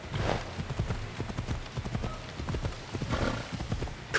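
Horse hooves clip-clopping at a steady walking pace in Assassin's Creed Odyssey, a continuous series of soft, fairly close hoofbeats with a faint snort or whinny early on.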